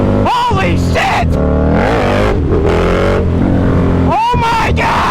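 A KTM Superduke 1290R motorcycle engine revs and accelerates very loudly up close, with rising whines over a constant heavy roar and excited voices talking over it.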